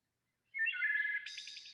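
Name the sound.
wood thrush song, played recording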